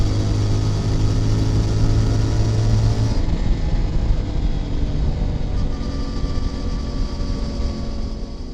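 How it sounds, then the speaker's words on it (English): A motorcycle engine drones steadily and loudly, its sound echoing and booming as if inside a tunnel, then easing slightly. "You hear a bit of the engine noise through this tunnel."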